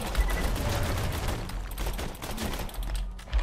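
Rapid gunfire in the video game Borderlands 2 rattles on, dense and continuous like a sustained fusillade, loud and close with no talking.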